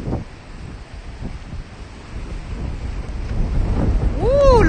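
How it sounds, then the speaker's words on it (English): Strong wind buffets the microphone beside rough Mediterranean surf on the Ligurian coast, roaring waves and gusts building louder toward the end, with a brief whistling tone near the close. "the wind is very strong, very."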